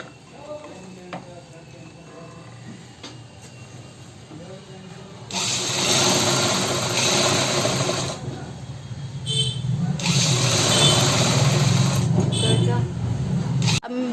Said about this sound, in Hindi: अब हम मार्जिन को ऊपर की साइड करके इस तरह से इसके ऊपर एक सिलाई लगाएंगे।